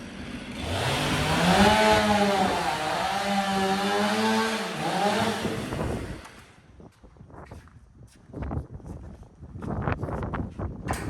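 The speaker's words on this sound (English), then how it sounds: "This might be the only Stihl 500 in the world with a black cover, because Jalen took a Sharpie and painted it" A Stihl 500 chainsaw with a black-painted cover revs loudly with a wavering engine pitch for about six seconds at a log home pre-assembly yard, then drops to quieter, intermittent bursts.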